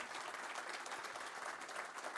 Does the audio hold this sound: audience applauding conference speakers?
yes